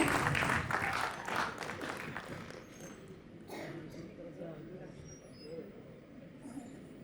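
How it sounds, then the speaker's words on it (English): Audience applause from parents at a music academy's annual day, loudest at the start and then tapering into a steady crowd wash in a hall, with voices mixed in. "Let's give them a huge round of applause, parents"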